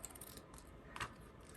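Scissors snipping through fabric for a high-bun scrub cap, a quiet, close crunch of blades with one sharper cut near the end, alone without talk.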